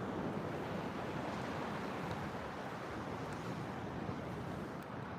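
Atlantic Ocean surf breaks and rushes steadily on Fort Lauderdale beach at sunrise, a continuous broad wash mixed with wind buffeting the microphone and no voices.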